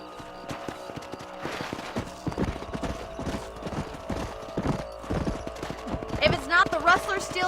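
Horse hooves in the game Red Dead Redemption clop rhythmically at a steady pace, close and clear, with a horse whinnying near the end.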